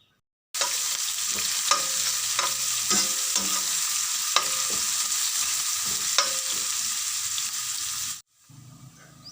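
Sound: stirring onions, curry leaves, ginger garlic paste frying

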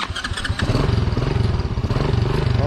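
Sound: motorcycle engine starting

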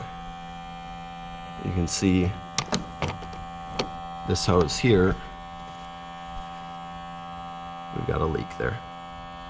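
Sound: smoke machine running during a Miata vacuum leak test

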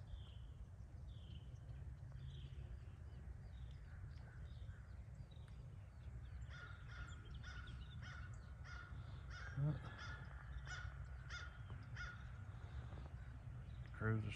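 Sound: crows cawing

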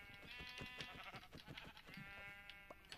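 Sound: sheep bleating in Minecraft video game

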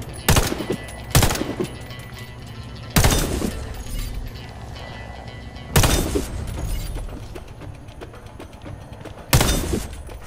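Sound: scoped gunfire at targets in the video game Warface

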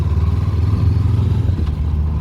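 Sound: Honda CB400X motorcycle riding

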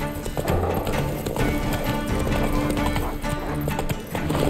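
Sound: horse galloping in video game The Witcher 3

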